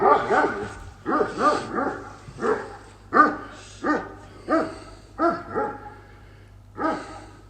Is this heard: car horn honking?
no